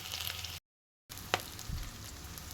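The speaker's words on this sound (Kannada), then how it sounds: "ಸಿಡಾತೈತಿ ರೀ" Peanuts and curry leaves sizzle in a hot pan with onions, a steady crackling hiss broken by a brief gap of silence, then resuming with a few stirring clinks.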